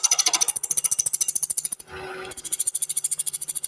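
Wood lathe turning epoxy with a negative rake chisel at slightly raised RPM: a rapid, steady rhythmic chatter of the tool against the spinning workpiece, close and loud, breaking off briefly midway into a softer hiss before resuming.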